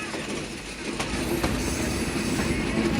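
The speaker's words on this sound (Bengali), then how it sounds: "3 মিনিটের যাত্রা বিরতি শেষ করে আমাদের ট্রেনটি ভেড়ামারা রেলওয়ে স্টেশন প্ল্যাটফর্ম ত্যাগ করলো" The Rupsha Express rolls out of Bheramara railway station with a continuous rumble from inside the train, wheels clicking faintly over the rails and a steady broadband roar throughout.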